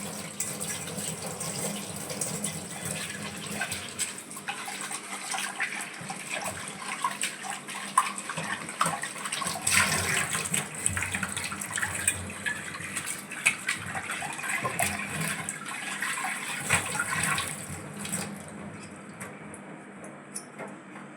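Running water from a tap pours steadily over a blackened bowl being washed, a continuous close gush with splashing that eases off near the end.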